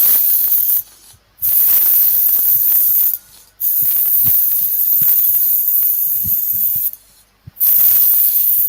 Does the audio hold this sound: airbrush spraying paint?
yes